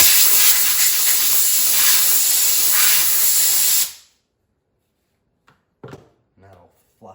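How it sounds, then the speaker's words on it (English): An air blower hisses steadily and loudly against a polishing pad for about four seconds, fluffing its fibers during wheel polishing on a trashed Mustang's wheels, then cuts off abruptly, followed by a few faint knocks and brief talk. "take your air blower"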